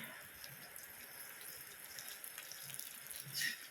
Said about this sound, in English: Oh, the rain's coming in now.